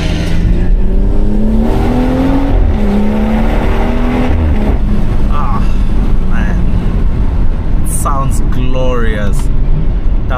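BMW M140i fitted with an M Performance exhaust, its engine revving and accelerating in rising and falling sweeps, loud and close, with a voice briefly heard late on.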